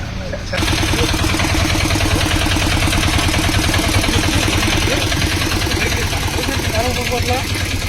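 A bucket excavator's engine runs at a steady, continuous drone close by, with indistinct voices faintly in the background.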